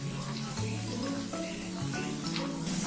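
Paneer pieces frying in hot oil in a pan, a steady close hiss and crackle that continues without pause.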